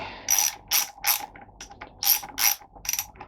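Hand ratchet loosening a bolt while wiring a Garmin GPS on a Royal Enfield Himalayan motorcycle, a close series of about seven crisp, rapid clicking bursts at a steady rhythm, with no voices.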